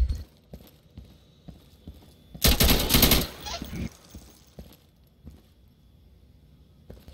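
Gunfire in the Insurgency video game: a dense, loud burst of rapid shots lasting about a second and a half, with a few quieter scattered clicks and thumps before and after.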